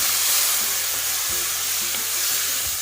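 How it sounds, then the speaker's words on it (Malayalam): Cut lemons for a vadukapuli lemon pickle stirred through hot oil in a pan on low heat give a loud, continuous sizzling hiss, with soft scraping strokes of the spoon recurring under it. "ഇതിലേക്ക് നമുക്ക് ഈ കട്ട് ചെയ്തിരിക്കുന്ന നാരങ്ങ ചേർത്ത് കൊടുക്കാം"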